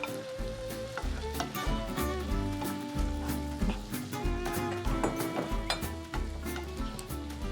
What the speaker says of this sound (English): Here's where the saute part comes in.